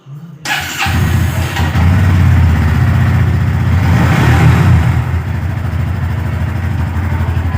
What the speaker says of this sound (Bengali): তো গাড়িটাতে স্টার্ট দিই।